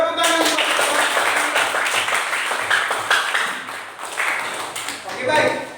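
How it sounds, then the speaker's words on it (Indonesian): Classroom applause during a teacher-training lesson on bee reproduction: a roomful of students clapping in a dense, steady patter for several seconds, moderately loud and close, thinning slightly toward the end. "Tepuk tangan."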